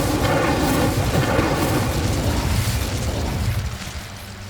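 Incendio fire spell cast in Hogwarts Legacy, a loud, sustained roaring blast of flame that rumbles steadily for several seconds before fading slightly at the end, with no talk over it.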